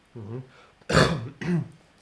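A single harsh cough bursts out between brief voiced throat sounds, close and moderately loud.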